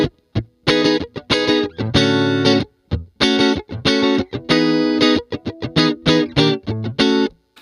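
Electric guitar played through a Tech 21 RK5 Fly Rig into a clean amp sound, strummed chords and short stabs in a choppy rhythm, bright and clear, loud and close with no talking.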